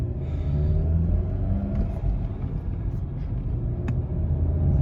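A Volkswagen GTI MK7.5 with a new Sachs clutch pulls away from a standstill, its engine rumbling steadily and building as it accelerates, heard from inside the car with no talk.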